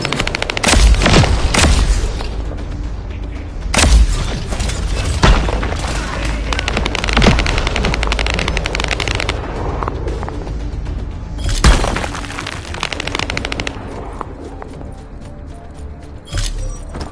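Heavy turret fire in the sci-fi shooter The First Descendant, loud sustained bursts with booming impacts and mechanical clatter, easing off toward the end, with a voice speaking partway through.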